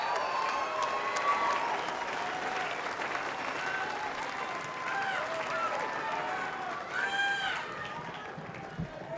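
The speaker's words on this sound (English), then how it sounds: "let's get a massive welcome, a huge round of applause" A large crowd at the Goodwood Festival of Speed 2024 gives sustained, dense applause and cheering in welcome of F1 drivers Sergio Perez, Daniel Ricciardo and Max Verstappen, with voices mixed into the roar throughout.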